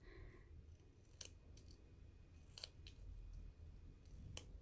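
Scissors snip through paper for a scrapbook layout in a few sharp, separate cuts spread over several seconds, fairly faint against a low room hum, with no talking.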